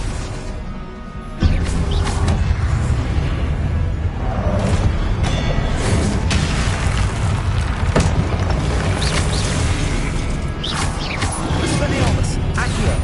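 Confringo fire-spell blasts in the Hogwarts Legacy video game, a continuous clatter of booms, crackles and mechanical impacts over a dense game soundscape, with a voice calling out spells at points.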